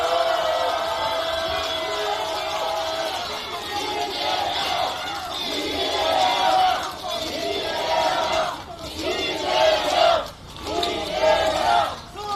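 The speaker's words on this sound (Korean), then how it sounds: "환영의 큰 박수 부탁드립니다." Crowd at a Democratic Party rally in Songpa welcomes party leader Lee Jae-myung with loud cheering, shouting and applause that swells and dips in waves, with voices mixed in.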